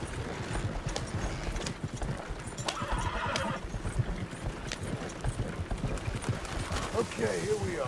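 A horse in Red Dead Redemption 2 clip-clops along at a trot and whinnies, the hoofbeats steady and fairly close, with voices talking over the ride.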